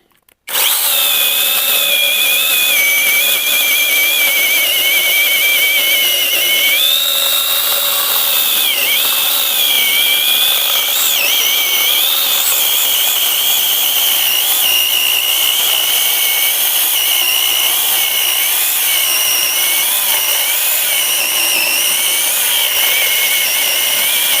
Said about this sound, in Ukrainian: Пробуємо відпиляти сосну на всю шину.